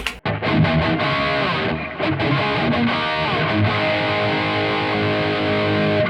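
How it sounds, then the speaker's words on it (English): A distorted electric guitar, an Epiphone Les Paul Modern, plays sustained, crunchy chords and ringing notes, loud and continuous with a brief pause near the start. "I am going to switch to a distortion."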